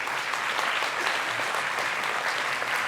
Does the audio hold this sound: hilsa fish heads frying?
no